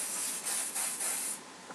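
A steady aerosol hiss of hairspray sprays in short pulsing bursts underneath curled hair, close and fairly loud, then cuts off.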